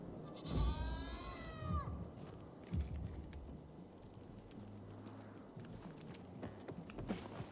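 A single loud sheep bleat near the start of Dying Light 2 Stay Human gameplay, then quieter clip-clop footsteps and soft mechanical clicks against low background noise.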